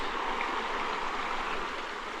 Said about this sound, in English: You can already hear the falls somewhere around here.